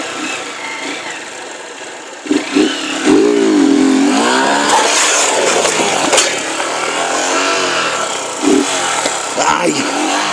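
A motorcycle engine revs hard and loud during wheelie practice with a burnt clutch, its pitch rising and falling in sweeping bursts with a constant rough roar beneath.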